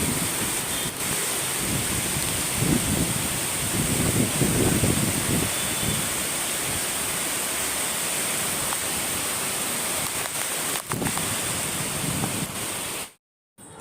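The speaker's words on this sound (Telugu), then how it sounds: "ఇప్పుడైతే వర్షం చూడండి ఎలా పడుతుందో, చాలా గాలి వస్తుంది, చాలా ఫాస్ట్గా వర్షం పడుతుందన్నమాట." Heavy rain pours steadily with strong wind gusts at night, a dense, continuous roar of broadband noise close by that holds at a constant loudness before cutting out briefly near the end.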